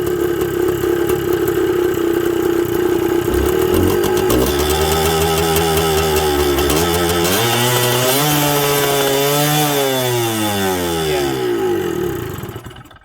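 A Suzuki TS125 motorcycle engine with a carburetor in need of cleaning runs steadily at idle, loud and close, its pitch wandering up and down before it cuts out near the end.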